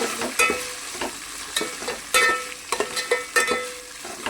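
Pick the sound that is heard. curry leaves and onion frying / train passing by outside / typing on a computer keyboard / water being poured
curry leaves and onion frying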